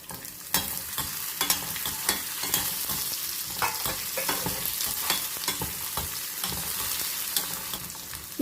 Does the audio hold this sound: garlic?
yes